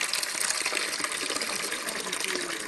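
Liquid gushes in a steady, loud stream as fluid drains from the engine bay of a Renault Mégane 2 during engine removal, close and unbroken, with no talk over it.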